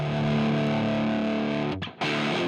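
A raw, distorted electric guitar tone with a low cut, in a 90s grunge style, rings out as a sustained chord. It cuts off briefly near the end, then comes back, loud and close.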